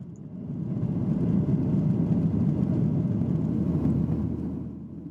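Steady low jet engine roar of an airliner taking off from Burbank Airport, a broad continuous rumble heard from inside the cabin that swells and holds at a constant level with no voices.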